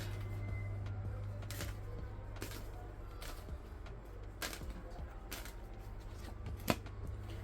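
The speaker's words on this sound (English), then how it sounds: "And I shuffled those very well." Quiet riffling and soft slaps of tarot cards being shuffled, several short bursts spaced irregularly over a low steady hum.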